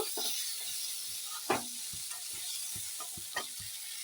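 Brinjal fries in a little oil in a pan with a steady soft sizzle, broken by sharp scrapes and taps of stirring, close up and without speech.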